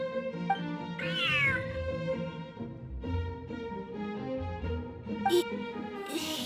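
A cat meows in the Genshin Impact game, a clear, close, drawn-out meow followed by softer mewing over gentle background music, with no talk.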